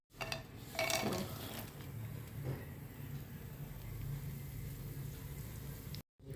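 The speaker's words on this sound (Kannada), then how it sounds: "ತುಪ್ಪ ಕಾಯ್ತಾ ಇದೆ. ಇದಕ್ಕೆ ಡ್ರೈ ಫ್ರೂಟ್ಸ್ ಎಲ್ಲ ಹಾಕಬೇಕು." Ghee heating in a pan before dry fruits go in, a steady low sizzle and bubbling hiss running continuously near the mic, with a brief clatter early on.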